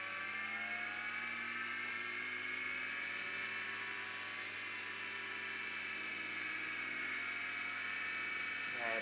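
A mid-1980s ST 504 hard drive spins steadily at about 3600 RPM, a constant close whine with a low motor hum, no voices.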